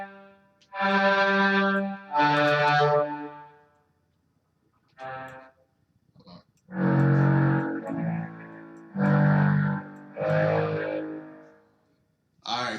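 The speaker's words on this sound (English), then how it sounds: "That's the string with the distortion." A string instrument played through a heavy distortion effect, sounding several buzzing, harmonically rich sustained notes separated by short silences.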